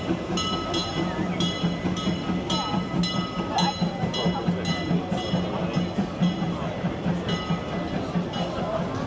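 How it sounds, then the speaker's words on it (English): A Disneyland park railroad train passes nearby with rhythmic clickety-clack wheel beats and low rumble, steady throughout, while people talk in the crowd. "Another train coming through."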